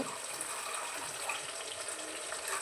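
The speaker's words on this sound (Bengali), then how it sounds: "মিক্সিটা ধুয়ে মিক্সির বাটিটা ধুয়ে আমি জলটা দিয়ে দিচ্ছি এর মধ্যে" Tap water runs steadily into a rinsed mixer grinder jar at a kitchen sink, a continuous close hiss and splash with no pauses and no voices.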